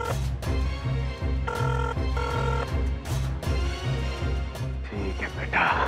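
Phone ringing unanswered in a repeating pattern of ring tones, loud and steady with brief gaps, set against a drama's music bed.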